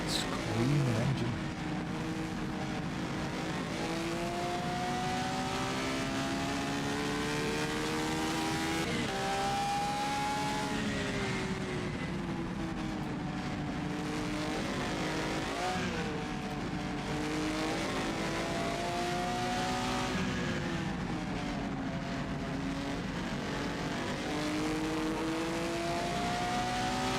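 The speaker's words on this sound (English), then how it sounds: "Yeah, the Ferrari do sound good." A Ferrari race car engine screams at high revs around Lime Rock Park in the rFactor 2 racing game, the pitch climbing and dropping repeatedly through gear changes, loud and continuous with no voices.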